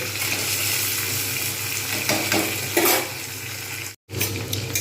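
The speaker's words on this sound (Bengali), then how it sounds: "আলু পটল যেটা কেটে রেখেছিলাম আমি ওটাকে ভালোভাবে ভাজবো" Potato and pointed gourd frying in a pan for a fasting-day barnyard millet khichdi, a steady close sizzle with stirring scrapes, cutting out for a moment near the end before resuming.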